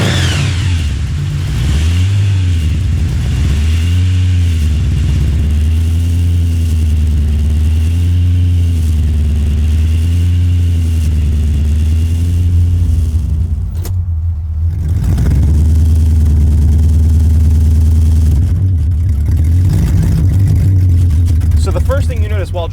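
A 1971 Chevrolet Camaro Pro Street engine runs loud and close, its deep rumble swelling in repeated revs before a brief cutout and a steady return, with a voice talking throughout.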